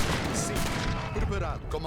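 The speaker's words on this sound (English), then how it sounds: "Just have a nice flow of cannon." Battle gunfire and cannon blasts in Age of Empires 3, with heavy cannon firing among a dense, continuous fusillade of musket and artillery shots while someone talks over the din.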